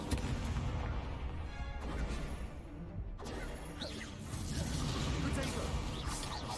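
Spell effects from Hogwarts Legacy, including the Incendio fire spell, with whooshes and crashing bursts running continuously over the game's background.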